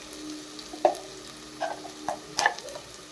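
Ground masala paste for mutton biryani sizzles quietly in oil under a low steady hiss, punctuated by a few distinct spoon knocks and scrapes against the pot. No one talks.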